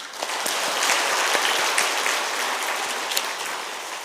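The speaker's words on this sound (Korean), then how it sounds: "감사의 박수하겠습니다" A congregation applauds during a Wednesday worship service at a church: sustained, dense clapping from many hands, fairly close and even, with a few sharper claps standing out before it gradually eases toward the end.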